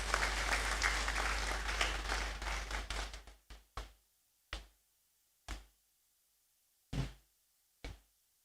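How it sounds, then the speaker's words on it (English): Applause at a university congregation ceremony in a great hall, steady dense clapping from the audience for about three seconds, then tapering into a few scattered, isolated claps. "A round of applause as he comes."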